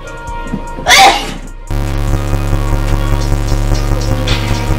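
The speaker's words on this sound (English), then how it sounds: "I love to sneeze, I love to sneeze." A single loud, close sneeze bursts out near the start, followed by a steady electronic hum and buzz that runs through the rest of the clip.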